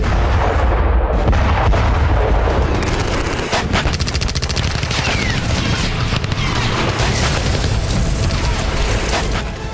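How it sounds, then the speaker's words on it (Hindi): Relentless bursts of gunfire, cluster bombs and heavy artillery booms overlap in a dense, loud barrage during the Armenia–Azerbaijan war in Karabakh, with rapid cracks and deep thuds continuing without pause. "नहीं थम रहे धमाके, नहीं थम रही बारूदी बरसात।"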